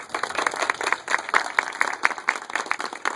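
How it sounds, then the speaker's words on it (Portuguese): Audience claps at the inauguration of a Catholic Charismatic Renewal diocesan headquarters, a steady, fairly rhythmic run of distinct hand claps from a small group, moderately loud and close, with no voices over it. "uma salva de palmas para você"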